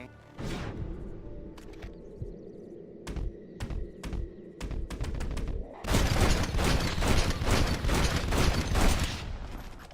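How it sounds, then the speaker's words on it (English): Gunfire in the Red Dead Redemption video game: a few sharp isolated shots, then a dense, loud fusillade of rapid overlapping gunshots and crashes filling the second half. "Oh, I'm so gonna enjoy shooting you, bro."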